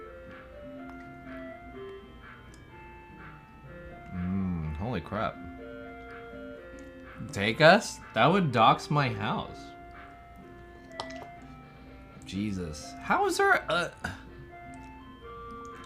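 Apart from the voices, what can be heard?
ice cream truck jingle playing at 8 p.m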